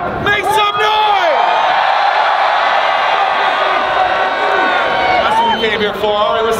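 Live show audience cheering and whooping loudly and continuously, a dense close roar of many voices with scattered shouts and yells throughout.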